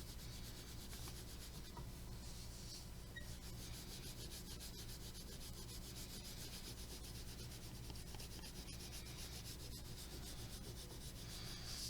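A pencil rubs steadily across paper, coloring diagonal strokes as a continuous faint scratchy hiss with no pauses, quiet and close, with no talking.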